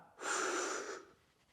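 One close, clear breath of air, rising quickly and fading after about a second, taken while doing a straight-leg jack knife crunch on an exercise mat.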